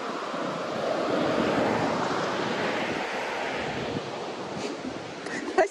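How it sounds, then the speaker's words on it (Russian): A continuous broad rush of the Lumrudzhu river in Dombay fills the whole stretch, steady and fairly loud, like a river heard up close with some wind. "Так, река Лумруджу."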